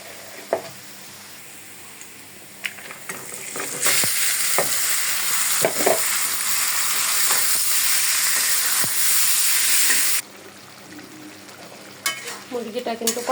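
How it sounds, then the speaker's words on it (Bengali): Spiced chicken sizzles loudly in a hot wok, with clattering stirs and scrapes. A steady hissing roar swells for several seconds, then drops back to quieter frying and sharp utensil scrapes. "মুরগিটা কিন্তু কষানি হয়ে যাচ্ছে।"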